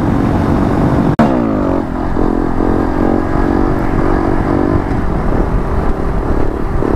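A Honda Grom motorcycle cruising along in third gear gives a steady, close engine drone with wind rush, and the pitch dips briefly near the start as the rider shifts.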